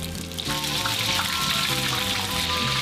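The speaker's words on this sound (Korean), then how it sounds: "튀길 때 한 번씩 한 두서너 번씩 이렇게 흔들어주면서 튀기면 바삭거린 맛이 더 좋아요" Steady hissing sizzle of battered cockles deep frying in oil, with bubbling and some watery crackle throughout, fairly loud and continuous, no voices.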